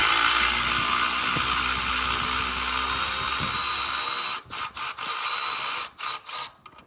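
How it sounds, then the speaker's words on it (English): Electric ratchet whirring against LS3 header bolts on a C6, a continuous buzzing spin for about four seconds, then several short on-off bursts with gaps between. "these header bolts, they're really easy to get to if you have an electric ratchet"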